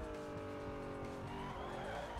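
A car accelerating in the racing game Need for Speed Most Wanted, its engine roaring loud and continuous with the pitch climbing through the revs, alone with no talk.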